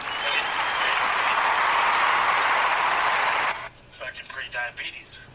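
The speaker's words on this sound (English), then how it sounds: "Please give a round of applause." Audience applause on a live talk show, a loud, even wash of clapping and cheering that runs for about three and a half seconds before cutting off abruptly, after which a voice speaks over quieter background.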